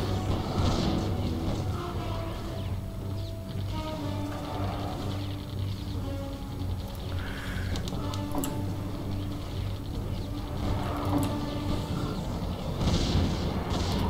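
Cannon towers in the tower-defense game Defense Grid: The Awakening fire in a dense, continuous barrage of booming shots layered over steady game music and mechanical clatter.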